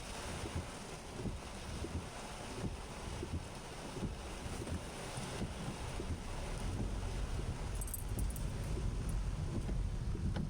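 Strong wind with rain, outdoors among buildings, roars steadily and buffets the microphone, with a low rumbling wash that continues without a break.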